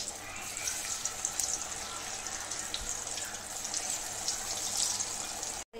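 Taro leaf rolls (patod) frying in medium-hot oil give a steady, close sizzle and crackle that holds level throughout with no speech, cutting off abruptly at the very end.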